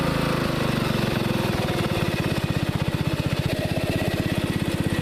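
Riding lawn mower engine with a six-speed transmission climbing a hill in a lower gear at reduced throttle, a steady loud rhythmic chugging that grows more pulsed and pronounced partway through, close and continuous with no talk.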